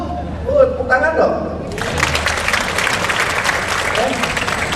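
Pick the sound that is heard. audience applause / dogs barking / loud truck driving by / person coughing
audience applause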